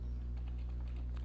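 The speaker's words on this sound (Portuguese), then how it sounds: "então eu tenho que digitar cd" A command is typed on a computer keyboard in a short run of close, quick key clicks over a steady low hum.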